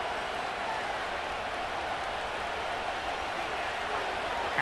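Dense stadium crowd roar in a Madden 25 football game simulation between the Bills and Seahawks, a steady loud wash of cheering with no breaks throughout.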